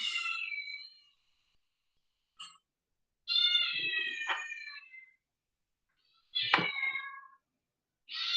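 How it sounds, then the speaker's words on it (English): A house cat meows in several separate drawn-out cries with silent gaps between them, close by and fairly loud, one call rising sharply into a strained yowl. "one of our cats is tripping"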